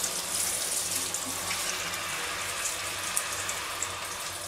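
Water runs and drains steadily from a tap while a bathroom is cleaned, with a continuous close hiss and splash and no talking.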